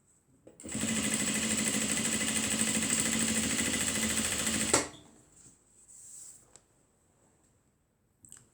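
Steady, loud sewing machine run lasting about four seconds while stitching the straps of a crossbody mini bag, stopping abruptly and followed by quiet handling noises.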